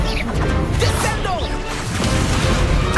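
In the game Hogwarts Legacy, the Descendo spell slams an enemy down with a quick whoosh and a heavy crashing impact amid busy combat noise, all within a short loud burst.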